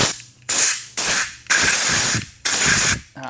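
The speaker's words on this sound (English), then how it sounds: "Super handy to have compressed air if you're cleaning carburetors" Compressed air blasting through carburetor passages during an FCR carb rebuild, four sharp loud bursts of hissing spray, each cut off abruptly and tapering before the next, with a fifth starting at the end.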